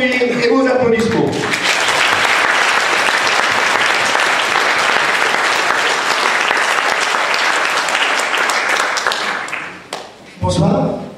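A theatre audience applauds a local amateur troupe with loud, dense, sustained clapping that fills about ten seconds, then fades and briefly swells again near the end.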